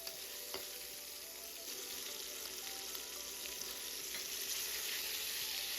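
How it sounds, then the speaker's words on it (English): Ginger sautés in about three tablespoons of hot cooking oil in a wok, a bright, steady sizzle with occasional spatula scrapes and pops, continuous and close, with no talking. "Heat up the wok, 3 tablespoons cooking oil, add in the ginger, saute until fragrance comes out."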